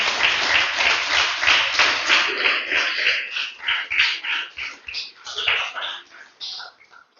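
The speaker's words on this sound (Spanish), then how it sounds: "Déselo fuerte el aplauso a Dios." Church congregation applauding God during a Spanish-language service, a burst of clapping that thins into scattered claps with voices talking over it.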